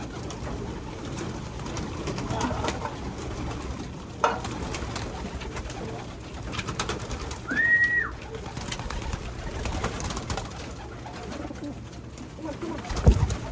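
Racing pigeons coo softly from close by during basketing for a 2.3-mile Capistrano Classic one-loft race. Low, throaty calls repeat through a murmur of handling noise, with one brief higher tone partway through.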